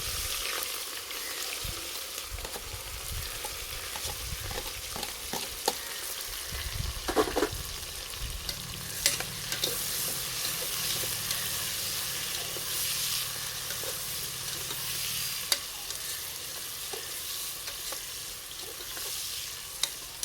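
Sliced big onions frying and being stirred in hot oil and ghee for chicken biryani, a steady close sizzle with scraping stir strokes, no talking.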